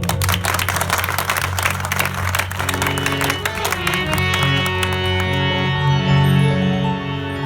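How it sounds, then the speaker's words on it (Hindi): A crowd at a devotional bhajan gathering for Khatu Shyam claps, a dense rattling applause that gives way to sustained harmonium-like music tones. "आपके लिए मैं तालियां बजाता हूँ।"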